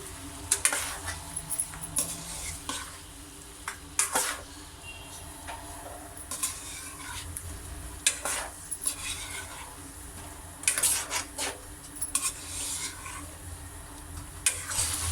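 A spoon works through chicken karahi in a pot as chicken powder is mixed in, giving repeated scraping strokes in short bursts over a faint low hum.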